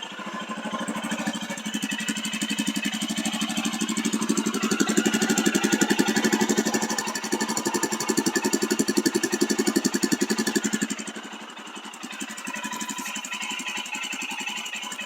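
A Royal Enfield Himalayan 411 motorcycle idles close by with a steady, even single-cylinder thump, rising slightly in the middle before settling back to a quieter idle.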